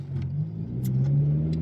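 Honda Civic Type R with a new exhaust idling after a cold start, a steady, low droning rumble close by with faint ticks above it.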